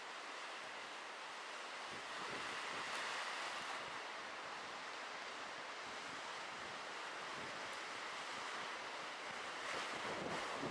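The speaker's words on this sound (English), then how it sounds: "it's so windy right now" Strong wind buffets the microphone in a constant roaring rush, with surf-like noise underneath and no voices.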